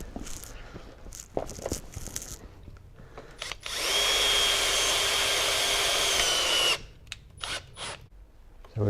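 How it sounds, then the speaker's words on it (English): A power drill bores into an aluminium bimini frame tube, a steady high whine lasting about three seconds, close and loud, framed by handling clicks and taps before and after. "you can drill that side."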